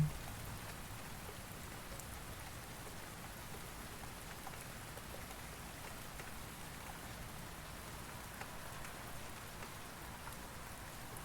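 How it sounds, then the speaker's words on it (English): Steady rain falls in a soft, even hiss that stays constant and faint throughout, with no voices. "Listen to the sound of the rain."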